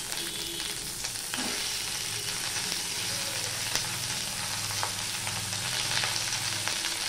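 Cut potatoes tipped into a pan of frying onions, giving a steady, close sizzle that runs throughout with light stirring clatter and no talking.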